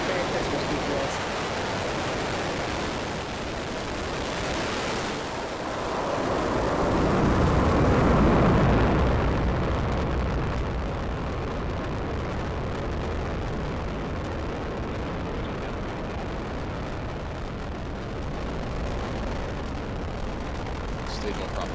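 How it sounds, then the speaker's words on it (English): A SpaceX rocket lifts off on a GPS satellite mission with a loud broadband roar that swells to a peak and then settles into a sustained, rushing rumble. "Ignition, liftoff. Merry Christmas, GPS."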